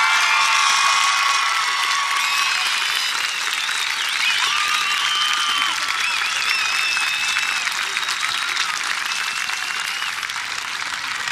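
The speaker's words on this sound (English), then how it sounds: "I would like you all to join me in the loudest applause you can" Loud, sustained applause for the graduating class at a high school graduation ceremony, a large crowd clapping continuously with cheers and whoops mixed in, filling the hall from start to finish.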